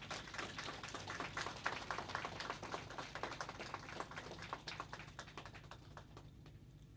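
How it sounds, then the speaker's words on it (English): Applause from a graduation ceremony audience for the graduating class at a technical institute: dense, sustained clapping from many hands, steady and fairly close, gradually thinning toward the end. "I now ask you to give them a well-deserved and appreciated round of applause"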